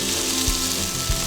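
Chicken pieces sizzle and fry in a pan for a stir fry, a steady loud crackling hiss with a couple of faint low knocks underneath.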